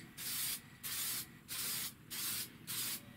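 Short aerosol spray bursts put a finish coat on a cleaned snapping turtle shell. Five close, even hissing puffs come in a steady rhythm, separated by brief pauses, with no talking.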